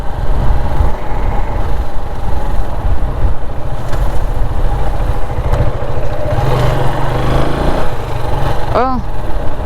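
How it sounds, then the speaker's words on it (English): A motorcycle being ridden through New Cairo, Egypt, its engine giving a steady close-up drone for the whole ride, with a short tonal sweep just before the end. "Maybe it's because I'm on a motorcycle."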